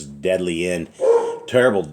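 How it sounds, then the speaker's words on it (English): Several dogs barking and yipping from another room, in three loud, tonal bursts that overlap a person speaking nearby. "Sorry for my dogs."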